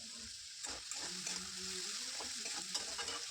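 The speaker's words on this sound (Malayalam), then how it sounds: "ഈ ഉള്ളി ഇനി നല്ലവണ്ണം ഒന്ന് വഴന്ന് കിട്ടണം. അതുവരെ ഇത് നമുക്ക് തുടർച്ചയായിട്ട് ഇളക്കിക്കൊണ്ടിരിക്കണം." Salted onions sauté in a pan for egg curry, a steady close sizzle with soft scraping as they are stirred continuously.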